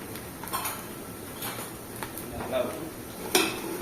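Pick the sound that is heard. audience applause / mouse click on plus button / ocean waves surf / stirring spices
stirring spices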